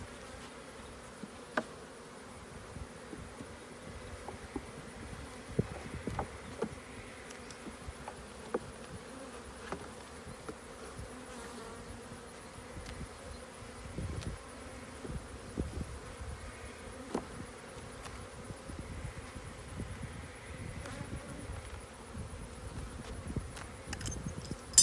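Honey bees buzz around an open beehive during a beekeeping inspection, a steady, fairly quiet drone with scattered louder passes of single bees flying near, and no talking.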